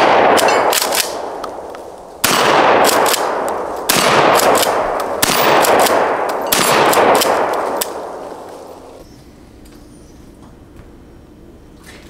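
Loud firearm shots at an outdoor shooting range, about five heavy blasts spaced a second or two apart, each with a long ringing decay, followed by quieter handling noise.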